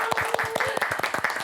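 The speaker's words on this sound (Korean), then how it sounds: "박수로 한번 맞아볼게요." Audience applause welcoming senior volunteers into a Catholic senior academy classroom studio: steady group clapping with dense overlapping claps, fairly close, with a voice briefly heard over it.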